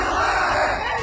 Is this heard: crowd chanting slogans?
yes